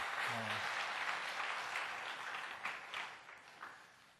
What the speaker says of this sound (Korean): 박수를 한번 쳤으면 좋겠습니다